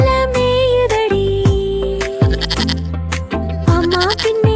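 A goat kid bleats repeatedly within a Tamil children's song, loud wavering cries that recur every second or so over bright musical backing.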